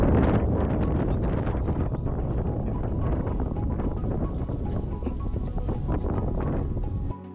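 Strong wind gusts roar steadily across a windy bay in Baja, Mexico, buffeting the microphone with loud, continuous rumbling for the whole stretch, with no talk.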